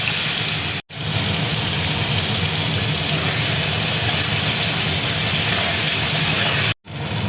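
Prawns fry in hot mustard oil with salt, giving a dense, steady, loud hiss broken by two brief silent cuts.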